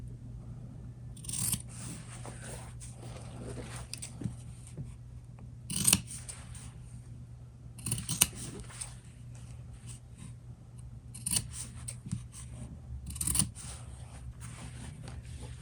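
Scissors trimming the side edges of fabric for a DIY shoulder bag: quiet, close snips come in short bursts with pauses between them, over faint background hum, with no talking.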